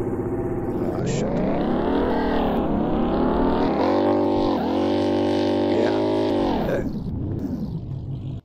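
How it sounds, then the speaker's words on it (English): A Jeep revs loudly up toward a steep jump during a Fury Road-themed experimental performance. The engine note climbs and dips continuously in a sustained, close roar, stuttering briefly as it hits the jump near the end. "pretty soon I'll be coming up over the jump, and you'll see the car go in the air"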